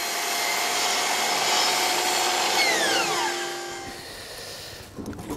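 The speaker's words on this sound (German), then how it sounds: "Die Kerven, in denen die Sparren später auf den Pfetten aufliegen, schneidet er mit der Handbandsäge." A hand band saw runs through timber for a roof truss, a steady close buzzing whine that winds down with falling pitch near the end, followed by a few light knocks, with no voices.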